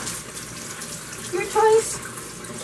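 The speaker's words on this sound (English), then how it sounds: "I just rinse them and get all the stuff off of them." Tap water runs steadily into a sink while ti leaves are rinsed for kalua pork, a continuous close splashing hiss with a brief louder surge, and a voice speaks briefly over it.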